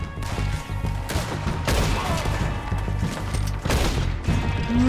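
Gunshots ring out in Red Dead Redemption 2, sharp cracks and bangs layered over a busy game soundscape with music and rumbling, fairly loud and irregular through the whole stretch.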